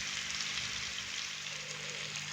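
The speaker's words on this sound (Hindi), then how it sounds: "फिश के जो पीस हैं वो फ्राई होने के लिए डाल दिए हैं" Fish pieces frying in a pan over a medium flame give a steady, close sizzle with constant bright spitting crackle that holds for the whole stretch without talk.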